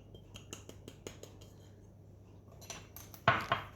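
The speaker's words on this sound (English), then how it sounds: "I'm just going to give that a little stir and tip it into the dry mix" Bath bomb liquid mixture being stirred in a small container, a run of light, evenly spaced clinks and taps from a utensil, ending in a louder scraping rattle as it is tipped into the dry mix; faint and close.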